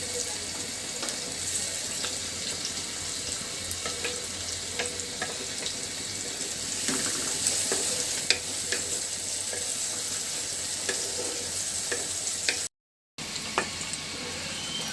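Garam masala and onions frying in hot oil for a home beef curry, a steady close sizzle with faint stirring scrapes throughout, no voices.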